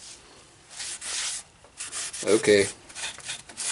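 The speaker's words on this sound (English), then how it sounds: "Back to the sanding stone." Wood is sanded by hand with a sanding stone in rhythmic rasping strokes, bursts of gritty friction coming and going, with a short spoken word in the middle.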